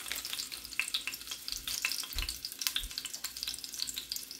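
Hot dogs and beef fry in a Dutch oven over lowered heat, a close, continuous crackling sizzle with sharp pops and occasional low knocks from the pot, steady throughout with no talking.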